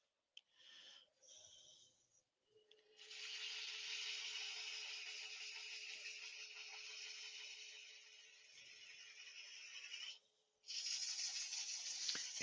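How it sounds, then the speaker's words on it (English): Steady raspy sanding strokes on a wood-turning piece, close and fairly loud, with a few short bursts at the start and a brief pause near the end before resuming. "it's sanding easy though"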